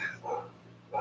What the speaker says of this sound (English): I hope you guys can't hear my dogs